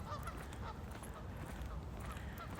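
Ducks or geese honking and quacking outdoors, several calls overlapping against steady broadband background noise, moderately near and continuous throughout.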